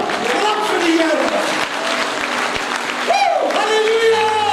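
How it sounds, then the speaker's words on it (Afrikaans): A church congregation claps for the Lord during an Afrikaans sermon, a dense wash of applause sitting under a voice that keeps speaking over it. "Kom aan, klap vir die Here."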